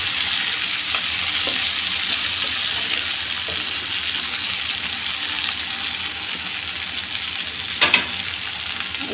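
Hilsa fish browning in a pan for bhuna keeps up a steady, close sizzle as a little water goes in, with a brief splashy burst near the end and no talking.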